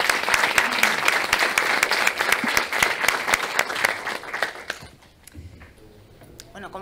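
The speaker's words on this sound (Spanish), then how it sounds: "Un fuerte aplauso, por favor" A panel audience at a microelectronics innovation conference gives strong, sustained applause, loud and even for about five seconds before it fades out abruptly into a quieter room.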